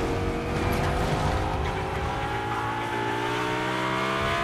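A car drives through a Fortnite match with a steady, loud engine drone and shifting pitch, occasional tire squeal and skidding as it swerves, carrying on throughout.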